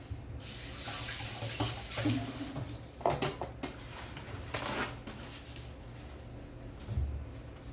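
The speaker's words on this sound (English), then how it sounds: "And rinse my hand off." Tap water runs steadily into a kitchen sink while hands are rinsed, with a few splashes and knocks of hands under the stream and no voice.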